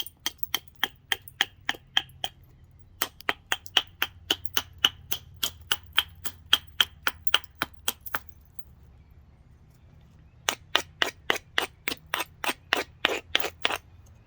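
A modified moose antler billet strikes and works the edge of a flint piece being thinned, producing runs of crisp, close, evenly spaced clicking taps, with a pause of a couple of seconds before a second quickening run.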